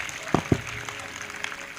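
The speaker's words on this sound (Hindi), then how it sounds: "इस वचन के लिए जोरदार ताली बजाएं।" A church congregation claps loudly at a preacher's urging, two sharp claps standing out before a looser spatter of applause that continues under a speaking voice.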